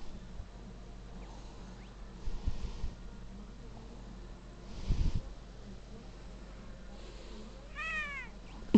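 A pet cat gives a few soft meows, with a clearer rising meow near the end, over a quiet indoor background with faint rustling.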